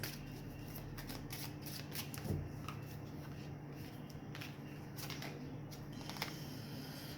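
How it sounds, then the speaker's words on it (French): Oracle cards in a love reading being shuffled and drawn, a rapid fluttering riffle of cards running continuously, close and fairly quiet, with no one talking. "maintenant je vais attraper 3 cartes avec les oracles de l'amour"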